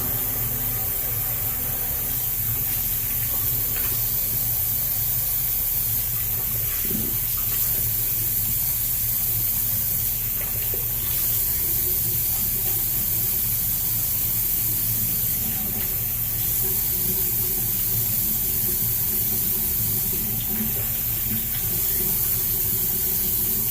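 Cold water rinse running from a tap or shower during a head shave, a steady broad hiss of flowing, spraying water continuing unbroken, close and fairly loud, with occasional small knocks and splashes.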